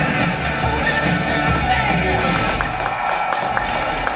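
Audience at the Nvidia CES 2010 press conference clapping and cheering in a large hall, a dense steady wash of applause with scattered whoops over a low crowd rumble.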